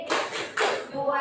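Children in a classroom clap together in a thumb-clapping routine, two bursts of rapid, close patting a half second apart with faint voices underneath.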